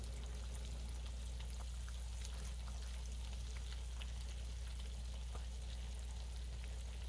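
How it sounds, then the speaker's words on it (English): Sliced green tomatoes fry in oil in a crowded skillet, a steady soft sizzle with faint crackles, heard close but quiet and continuous, with no talking. "I've got a lot of frying to do here"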